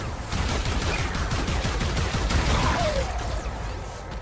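Rapid, continuous bursts of Far Cry 5 gunfire crackle densely throughout, loud and unbroken, with no voices.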